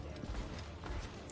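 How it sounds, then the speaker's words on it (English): In a video game, rapid hoofbeats of a galloping horse clatter close by in quick, uneven clip-clop beats. Busy game noise fills in around them for the brief moment. "I thought I heard a horse galloping for God knows what reason."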